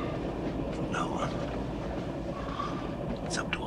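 A steady, rumbling train rolls along the rails with continuous rattling, while a voice speaks briefly over the noise.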